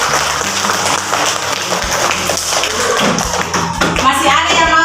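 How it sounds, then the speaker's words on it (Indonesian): Classroom applause for students who solved a math problem, a loud scatter of clapping hands mixed with taps and thumps, with children's voices chattering underneath. "Tepuk tangan untuk mereka."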